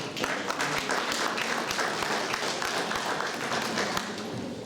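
Sustained applause from an audience at a charity ball, dense and steady clapping that fills the room for several seconds before easing slightly at the end.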